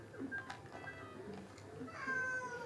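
A house cat meows amid background speech and room noise, with brief, rising cries near the start and again more clearly toward the end.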